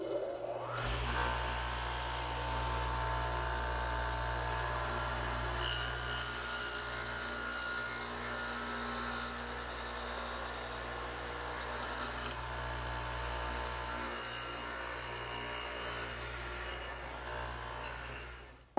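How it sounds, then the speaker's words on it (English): A radial arm saw fitted with a dado head cuts a vertical wooden piece, removing about 5/16 inch per side. The loud, sustained motor whine and grinding cut run for nearly the whole stretch, with no talk. "over on the radial arm saw, which again has the dado head in it"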